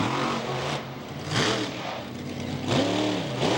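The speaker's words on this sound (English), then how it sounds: "Swings it back around, he's on the gas now." A monster truck at a 2005 Monsters of Destruction freestyle event in Monroe revs hard as the driver floors it, loud rising engine surges repeating several times in a broad roaring wash.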